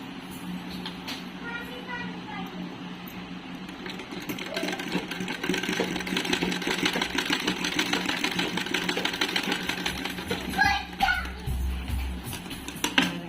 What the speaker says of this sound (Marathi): आपल्याला इथं पॉकेट बनवायचे आपण शिलाई मारून घेऊ अगोदर